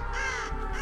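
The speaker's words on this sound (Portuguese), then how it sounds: "Corvo do demônio" A crow in the Dead by Daylight: Silent Hill video game lets out a single loud, close caw that lasts under a second.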